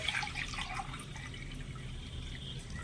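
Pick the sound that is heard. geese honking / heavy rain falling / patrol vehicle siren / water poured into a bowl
water poured into a bowl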